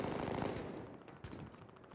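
Rapid bursts of automatic gunfire from a weapon in a video game rattle in quick succession, dense at first and then breaking into sharper separate shots.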